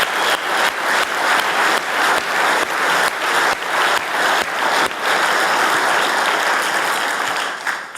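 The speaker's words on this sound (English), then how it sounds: "let's give all the staff a great round of applause" Loud, sustained audience applause at a policy conference, a large crowd clapping steadily for the kitchen staff, dense and even throughout with a slight fade at the end.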